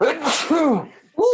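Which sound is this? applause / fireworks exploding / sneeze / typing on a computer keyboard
sneeze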